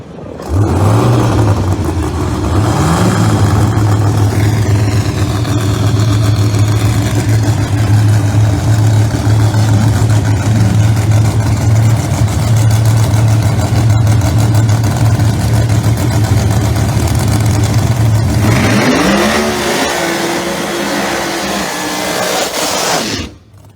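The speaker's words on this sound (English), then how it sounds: "Ken Cartuccio in the Serial Killer, the Yenko Red Camaro" Pro Mod drag racing Camaro in Yenko Red, nicknamed Serial Killer, holds a loud, steady engine drone near and constant for about eighteen seconds, then a sharp rising rev surge before cutting off.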